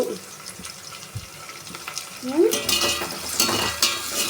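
Onions stirred in a hot pan, a soft scraping sizzle that swells louder midway as the spoon works through them, with a brief watery splash; no voices.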